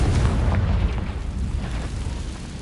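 A Confringo blasting spell explodes in Hogwarts Legacy with a loud, deep, rumbling boom up close that fades slowly into a low roar, with no voices.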